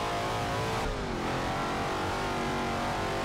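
A 7.0-litre V8 Cobra engine revs hard under acceleration in Forza Motorsport 7, a loud continuous roar with rising pitch and a brief shift dip about one second in.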